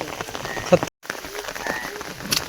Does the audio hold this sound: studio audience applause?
no